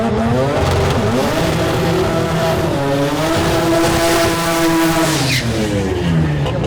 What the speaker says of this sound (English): can't beat the sound of that rotor.